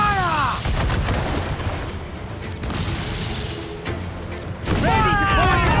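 Ship cannons fire in a naval battle in Assassin's Creed IV Black Flag, a dense rumble of booms under shouting voices, loud and continuous throughout.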